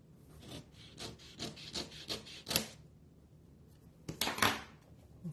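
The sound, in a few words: trimming a piece of cardstock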